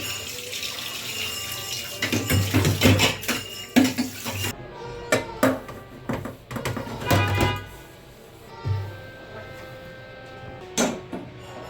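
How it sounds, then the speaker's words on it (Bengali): A wok is set down on a gas stove and the burner lit before frying chicken: a close run of metallic clanks, knocks and clicks, scattered and irregular, with no talk. "এখানে কড়াই বসে গ্যাসটাকে জ্বালিয়ে দিল"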